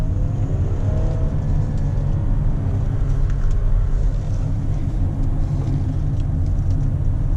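A 2018 Audi Q8 50 TDI diesel SUV accelerating hard on a country road in dynamic mode: a steady low engine and road rumble with tyre roar, heard from inside the cabin and rising slightly in pitch.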